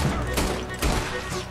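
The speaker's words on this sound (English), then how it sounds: "now shoot the people" Gunfire in the Red Dead Redemption 2 video game, two fairly quiet, close shots about half a second apart over low background rumble.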